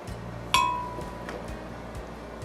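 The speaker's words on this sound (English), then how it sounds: "I'm gonna put 1 in each glass." A pre-sliced lime wedge drops into a drinking glass for mint iced tea, giving one sharp, bright clink that rings on and fades, with a few faint softer taps after it in a quiet kitchen.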